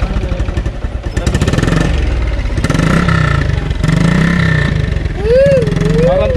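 A motorcycle engine warms up with a loud, continuous rumble and some revving throughout, while people talk nearby.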